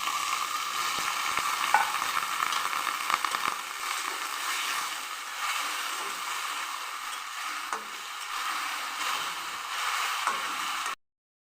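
Taro stolons sautéed with prawns in a pan, giving a steady close sizzle and frying hiss with occasional stirring scrapes. The sound runs for about eleven seconds and then cuts off abruptly.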